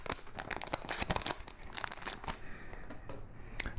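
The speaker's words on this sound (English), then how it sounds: "They all come in the resealable plastic sleeves." Resealable plastic sleeves from Beatles mono CD replicas crinkle and rustle up close, a quiet busy run of crackling handling noises with no talking.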